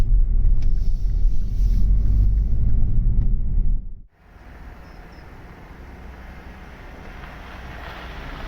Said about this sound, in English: I'd say the Vectra's passed its test drive fine.